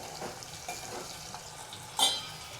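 Potatoes roasting in hot oil for a Gujarati puri shaak, a quiet steady sizzle broken by soft stirring scrapes and one sharper clink of utensil against pan near the end.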